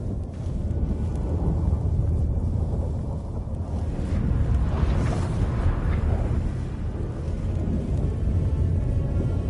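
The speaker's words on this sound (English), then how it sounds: "That a storm?" Thunderstorm in The Witcher 3 with steady rain and wind roaring continuously, a low rumble of thunder swelling midway, dense and loud with no voices.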